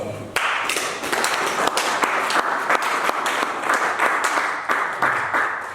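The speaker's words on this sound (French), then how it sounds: "Acclamons ça." A church congregation claps together in steady, dense applause that starts abruptly and carries on loudly and evenly with scattered sharper claps throughout.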